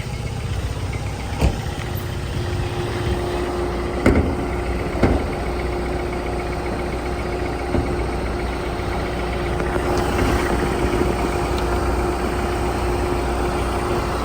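A car engine idles with the bonnet open, holding a steady mid-range hum with a faint whine. Scattered light clicks and knocks are heard over the drone.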